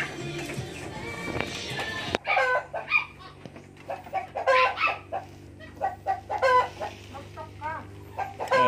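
A hen with chicks on a small goat farm gives a run of close, repeated clucks in short uneven bursts, with a steady low rumble behind them.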